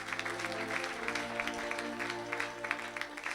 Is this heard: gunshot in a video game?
no